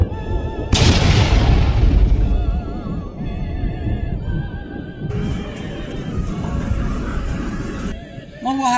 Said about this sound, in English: a great explosion would illuminate everything